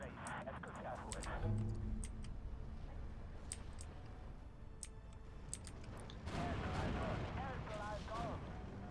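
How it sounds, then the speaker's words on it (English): Mortar fire in the WWII strategy game Steel Division II, a dense barrage of low rumbling booms with sharp cracks scattered on top, swelling loudest toward the end under a steady battle din. "Oh my god, the mortar fire is intense."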